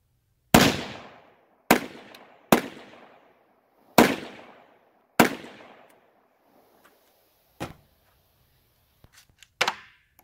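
Five sharp pistol shots fired at targets 65 yards out, each with a long decaying echo, spaced about a second apart, followed by a few fainter scattered shots and clicks near the end.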